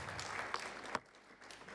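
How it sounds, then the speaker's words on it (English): Applause at a local economic development innovation champions showcase, a short burst of clapping from the audience with a couple of sharp claps before it quickly thins out and fades. "Round of applause."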